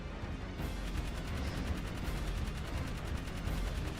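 Rapid turret fire in the video game Jak 3, with steady repeating shots forming a dense continuous rattle over a loud game mix.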